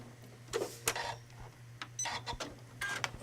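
A sewing machine stitching a continuous chain between pieces, giving quiet mechanical whirring and ticking in short uneven bursts over a low steady motor hum, close by with no talking.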